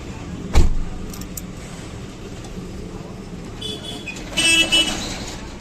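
A car horn toots near the end, two short bright blasts close by, after a low thump and a quiet stretch, with faint voices in the background.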